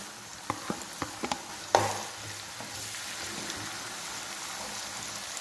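A few sharp clicks and a thump as onions go into the pan, then a steady hiss of oil frying, moderately loud and close, with no talking.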